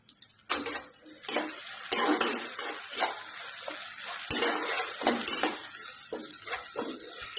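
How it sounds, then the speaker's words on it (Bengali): Salted prawns fry in a hot karahi (wok), giving bursts of hissing sizzle mixed with the clatter of a utensil against the pan, fairly close and without talk. "চিংড়ি মাছটা আমি কড়াই দিয়েছি"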